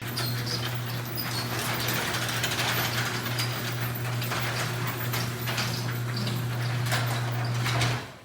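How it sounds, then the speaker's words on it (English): Squeaking rollers on a residential garage door give a steady, close, continuous rolling and grinding noise with a low hum throughout, fading at the end, with no talking. "This door here has a little bit of squeaking going on."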